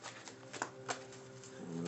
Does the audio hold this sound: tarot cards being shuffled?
yes